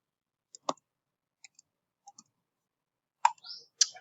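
Several sharp computer mouse clicks while setting up an email account, coming as single and double taps spread over a few seconds, close and quiet with no talking.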